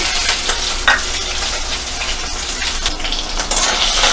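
Cumin paste with green chillies stirred in a frying pan for mixed dal khichdi, a loud, steady close sizzle overlaid with spatula scrapes and knocks, and no voices.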